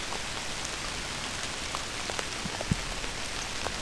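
Steady rain falls on leaves in the Ohio woods during a traditional bowhunt, a dense even patter close all around with occasional louder drips.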